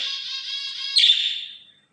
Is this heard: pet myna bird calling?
yes